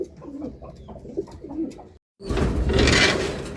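Soft racing pigeon coos at a moderate distance over a low background for about two seconds, then a sudden burst of broadband rushing noise like wind or fluttering wings.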